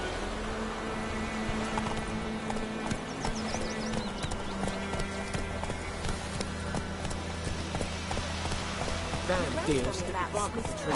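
A horse gallops at a steady clip-clop rhythm across White Orchard in The Witcher 3, with an occasional whinny and voices speaking over the hoofbeats.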